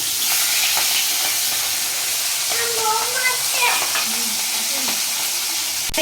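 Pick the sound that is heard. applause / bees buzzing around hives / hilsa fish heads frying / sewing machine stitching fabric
hilsa fish heads frying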